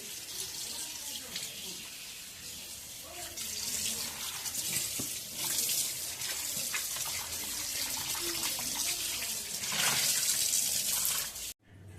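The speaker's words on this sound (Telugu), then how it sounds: "చేపలను శుభ్రంగా వాష్ చేసేసుకున్నాం" Tap water runs steadily into a sink while fish are washed for a tamarind fish curry, a continuous splashing hiss with faint handling sounds, then cutting off abruptly near the end.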